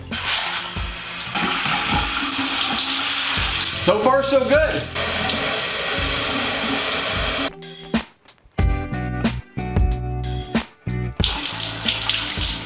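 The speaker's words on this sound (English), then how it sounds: "I'm done showering." A bathroom shower runs during a shave, its steady hiss of spray broken into choppy bursts and gaps near the end as the flow is interrupted, with a short spoken remark partway through.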